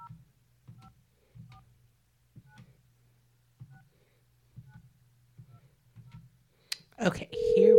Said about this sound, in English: So let's call her on this phone.